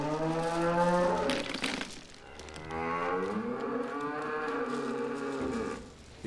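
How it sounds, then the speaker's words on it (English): Cattle on an upland farm in Bala, Snowdonia, Wales, moo in long, deep calls at dawn, loud and close, with one bellow following another. "I try just to get around all the cattle to feed them, just to wait for daylight."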